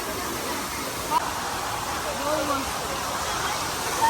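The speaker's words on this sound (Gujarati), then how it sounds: "વરસાદ પણ અત્યારે એવો આવે." Steady, dense hiss of heavy rain near a Mahadev temple, even and continuous, with faint voices barely audible underneath.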